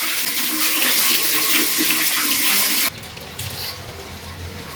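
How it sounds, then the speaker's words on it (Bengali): Running tap water rinses freshly cut cauliflower leaf greens in a kitchen, a steady close hiss and splash that drops abruptly to a softer, thinner flow partway through, with no talking. "শাকগুলো ধুয়ে নিলাম, শাকটি ধোয়া শেষ।"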